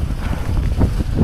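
Strong gale-force headwind buffeting the microphone during a snowy blizzard ride into muck and slop, a steady low roaring rush with gusty swells and no voices.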